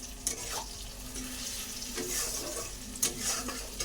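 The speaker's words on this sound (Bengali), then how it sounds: "এই কড়াই তেল দিয়ে পেঁয়াজ দিয়ে দিয়েছি।" Onions frying in oil in a wok, a soft steady sizzle with scrapes and clinks of stirring, faint and close, with no talk.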